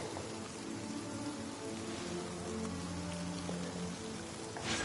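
Rain falling in the Genshin Impact game world, a steady dense patter of drops on surfaces that holds at an even level throughout with no talking.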